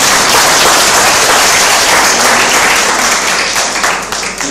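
Audience applause at a Kannada light-music concert, dense clapping that stays loud and steady throughout, fading a little near the end.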